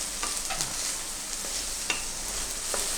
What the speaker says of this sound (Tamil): ஒரு 10 நிமிஷம் வதங்கணும்.